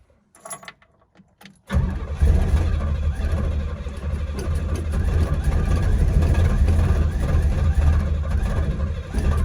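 A car that has sat unused with its transmission missing starts after a brief rattle, then the engine catches and settles into a loud, continuous, close idle roar.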